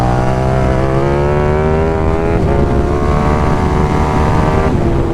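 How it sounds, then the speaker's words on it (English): A KTM 1390 Super Duke R motorcycle with an aftermarket exhaust, a loud close engine note holding a steady rumbling tone that shifts pitch slightly a couple of times, dense and continuous throughout. "You might as well spend another few grand on a fucking exhaust like this."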